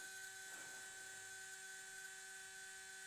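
An XERun G4 13.5 brushless RC car motor runs through an automatic bench test, producing a steady high electric whine with sustained tonal hum, faint and constant throughout with a slight shift early on.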